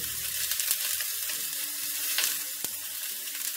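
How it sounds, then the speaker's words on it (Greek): Pork shoulder browns in a hot pan with a continuous close sizzle, punctuated by a few sharp pops and clicks from stirring or turning the meat. "Το τσιγαρίζουμε λίγο και από την άλλη πλευρά"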